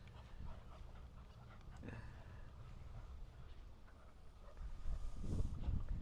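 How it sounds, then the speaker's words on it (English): Dogs pant and whimper softly throughout, steady low breathing noise with a louder burst near the end, no talking. "So how many dogs do we have here?"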